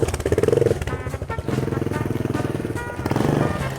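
Motorcycle engine revved hard with the throttle by a beginner rider, a loud rapid pulsing putter that rises and eases in three surges, close by.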